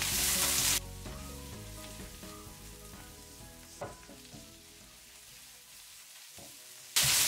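Kerala-style chicken curry masala being stirred in a pan over a low flame, a soft sizzle with clicks and scrapes of a utensil between two louder bursts at start and end.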